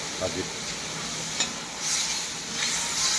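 A curry of sour potatoes and tomatoes with onion fries in a pan, giving a soft continuous sizzle with a few stirring scrapes and light clicks, steady and close, with no voices.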